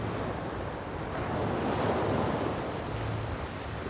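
Ocean waves wash steadily in a film scene of a boy looking out at the sea, a broad continuous surf roar with wind, swelling slightly midway, no voices.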